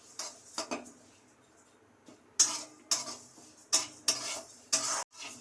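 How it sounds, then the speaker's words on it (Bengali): A spatula scrapes and knocks against a dry wok while moong dal roasts without oil, about seven or eight separate sharp strokes spaced unevenly, close and fairly crisp, with quiet pauses between. "ডালটা একটু নেড়ে নেব।"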